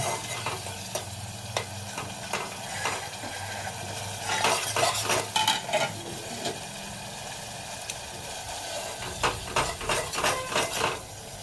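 Garlic and coriander leaf chutney stirred in a hot pan, a low sizzle under irregular bursts of a utensil scraping and clinking against the metal, close by and quiet.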